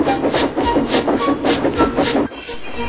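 Runaway railway trucks roll back down a gradient with a steady, rhythmic clickety-clack of wheels over rail joints. The rolling is loud and close, then drops off abruptly near the end.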